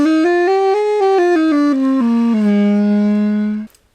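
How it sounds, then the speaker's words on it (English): Homemade ullulophone built from a cut-down school recorder, a short piece of PVC pipe and a balloon stretched over the top: a reedy, buzzing tone steps up and down through a short melody, then holds a low note before cutting off, close and alone. "an ullulophone is made of a butchered school recorder"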